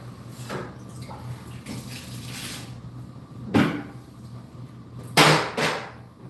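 Water splashed into a bucket of drywall mud during taping and mudding: a low hum with soft sloshing, then two sharp, loud splashing pours a couple of seconds apart, with no talk.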